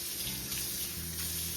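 Warm tap water pours steadily into a bucket of LEGO pieces with a soft, continuous splashing rush, close and fairly quiet, with no one talking.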